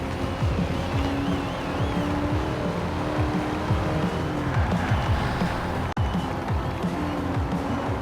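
A Pontiac Firebird in Forza Horizon 4 drives with its engine droning steadily and loudly throughout, with revving surges and gear shifts and no voices.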